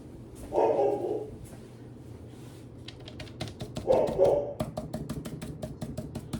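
A pet dog barks in two short bursts indoors, the first around one second and the second a few seconds later, followed by sharp clicking and tapping noises.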